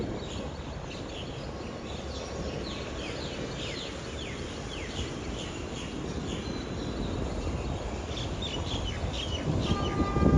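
Distant diesel locomotive train, GEK 4048 on the Nam Tok–Thonburi route in Thailand, rumbling slowly louder as it approaches, with birds chirping repeatedly over the steady low noise.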